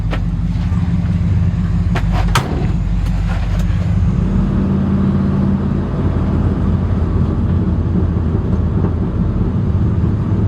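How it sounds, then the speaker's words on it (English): An idling truck engine in an orchard gives a steady, loud low rumble throughout, with a few brief clanks near the start. "The truck is running, ready to go."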